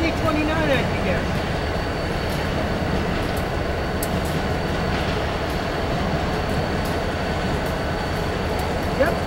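A CSX Highline freight train locomotive passes close by with a steady loud rumble and rattle of rolling cars, constant throughout.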